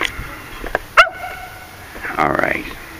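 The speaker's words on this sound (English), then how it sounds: "He sees a little dog over there with them two girls." Small dog seen on a carp fishing outing lets out a yelp, then a few short whimpering yips, close by, with people talking around it.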